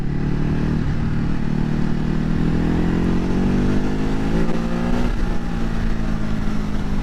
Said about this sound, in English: you got to be careful because this bike will accelerate